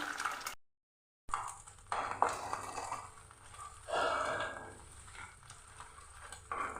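Eggs with salt fry in a pan, giving a soft steady sizzle with scraping and stirring, a brief gap of silence early on, then swelling hiss as the pan is worked.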